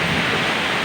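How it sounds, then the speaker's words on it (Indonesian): A brief burst of heavy rain pouring down in Jogorogo during a thunderstorm: a dense, steady wash of downpour with a low rumbling undertone, loud and close, without voices. "Wah, sama petir-petirnya"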